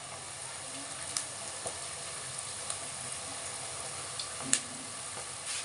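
Seasoning frying in a pot for jollof rice, a soft steady sizzle and hiss with faint pops and light stirring scrapes, quiet and close with nobody speaking.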